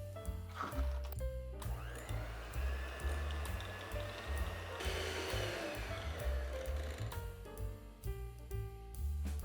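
An electric mixer whips butter for white buttercream with a steady, continuous whirring drone that shifts slightly in pitch as the beaters work, close and alone without talk.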